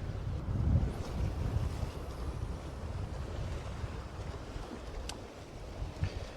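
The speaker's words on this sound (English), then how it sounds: "It's just a shame about that wind." Steady wind buffeting a rocky sea coast at Buchanness, Aberdeenshire, during rock fishing, a constant low rumbling roar with gusts and surf noise, loud and close to the microphone, no talk.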